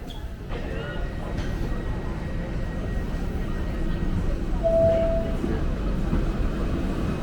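A Merseyrail train pulls into a platform at Liverpool Central underground station with a deep, steady rumble that swells slightly as it draws near, a faint whine above it and a brief tonal squeal midway.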